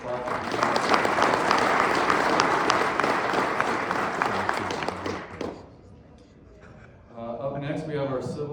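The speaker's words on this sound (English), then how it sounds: "Round of applause" A room of guests at an awards lunch gives a round of applause for a nominee, steady clapping for about five seconds that fades out, followed by someone speaking.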